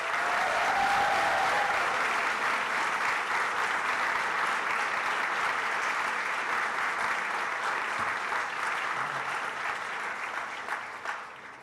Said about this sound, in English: A big round of applause for these incredibly dedicated students.